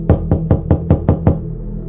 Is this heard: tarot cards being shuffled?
no